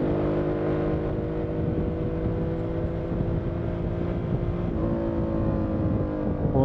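Harley-Davidson Sportster S motorcycle pulling hard in fourth gear in sport mode on an open road, a steady, loud engine drone with rising pitch heard from the rider's position, no talking.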